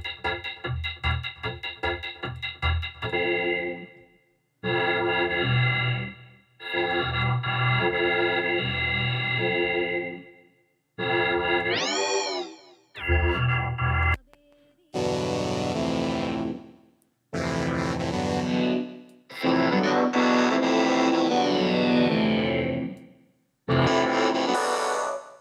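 Vocals processed through a vocoder effect in Bitwig, giving a buzzy, robotic, harmonically dense sound in several phrases separated by short gaps, with one rising sweep partway through.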